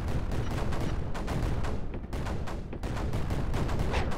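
Mortar fire in the strategy game Creeper World 4 during a Death Star bombing run, a dense, steady barrage of booming blasts that rolls on for the whole stretch with only a brief lull in the middle.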